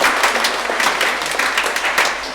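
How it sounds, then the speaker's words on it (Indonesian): A church congregation applauds steadily through an Easter Mass, a dense, even wash of many hands clapping that fills the room with no pauses. "Tepuk tangan untuk semuanya."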